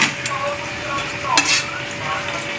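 Mutton sautés in ghee in a pan, with a bright continuous sizzle and a spoon stirring and scraping against the metal, close and fairly loud.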